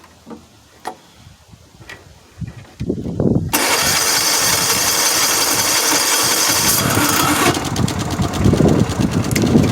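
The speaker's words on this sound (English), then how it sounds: "Gotta go from high throttle to minimum throttle." An old childhood lawn mower, a Honda GX75-style small engine with a running problem, starts with faint ticks, then roars loudly from about the three-second mark and runs steadily at a rough, sustained idle to the end.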